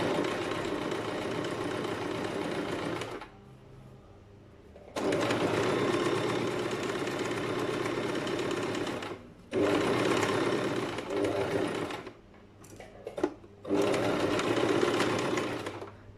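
A sewing machine stitches a fabric seam in steady, loud runs, stopping briefly twice before starting again, with short quiet pauses between the bursts.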